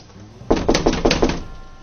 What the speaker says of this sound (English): he bangs on the door and hears a muffled sound from within